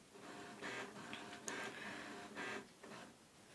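An HP printer whirs and clicks through its startup, with several rising mechanical passes and soft ticks, close by and fairly quiet.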